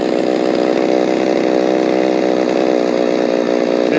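A Stihl MS390 chainsaw fitted with a HiPa carburetor runs loud and close at high revs, holding a steady, buzzing roar with slight wavering as it edges toward choking out.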